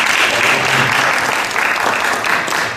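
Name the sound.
applause from the church congregation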